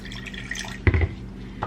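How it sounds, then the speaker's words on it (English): Water poured into a container while setting up plants in LECA: soft trickles and drips, then a brief heavier gush and splash midway, followed by a faint drip. "so I'm gonna add a little more water"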